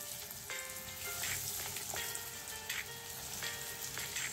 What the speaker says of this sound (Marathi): आता मी हे नगेट्स हळूहळू याच्यामध्ये सोडते।